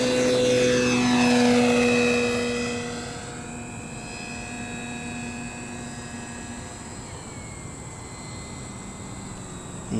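E-Flite Carbon-Z Cub SS 2.1 m electric RC model plane flying at reduced scale throttle: a loud propeller-and-motor whine sweeps down in pitch as it passes, then settles into a steadier, fainter drone farther away.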